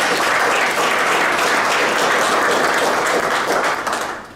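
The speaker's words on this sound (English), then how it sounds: "So can we please give Brian a round of applause?" A crowd at a 2019 college signing event gives Brian a round of applause: loud, dense, even clapping held for about four seconds, then fading away at the end.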